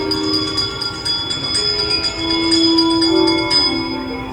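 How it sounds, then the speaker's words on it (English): Inside the Haunted Mansion ride at Disneyland, a bell rings out with sustained metallic tones and ringing overtones that repeat and linger over a steady ambient hum. "give us a hint by ringing a bell."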